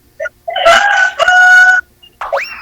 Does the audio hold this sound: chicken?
yes